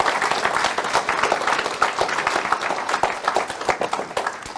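An audience claps at a youth mind-training diary lecture, a dense burst of hand claps from many listeners in a hall, loud and sustained before tapering slightly.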